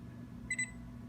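A Frigidaire refrigerator control panel beeps as the set button is pressed and held: a short, faint double electronic beep, two quick tones close together, over low steady hum.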